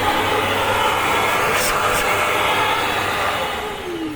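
A wall-mounted vacuum unit in a garage runs steadily with a loud, constant motor roar and airflow hiss throughout, fading slightly toward the end.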